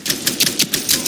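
Rapid series of light, crisp mechanical clicks from a magazine change in the shooter game Ironsight, about six close, evenly spaced ticks with no voice.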